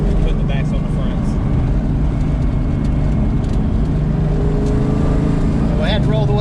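Ford Mustang of the 1996–2004 generation with a 3-inch exhaust driving, a steady loud low drone heard from inside the car with the windows down, one voice talking faintly over the engine.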